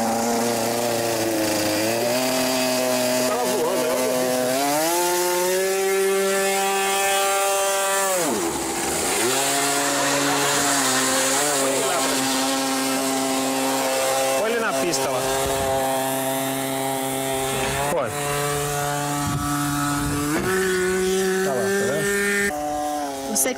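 A fuel-powered remote-controlled aircraft engine revs loud and close with a sustained buzzing whine, its pitch rising, dipping sharply and climbing again, while people talk over it.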